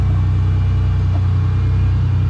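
A supercharged Impala engine idles steadily just after a cold-weather start, a loud, close, even rumble with a regular low throb and no voices.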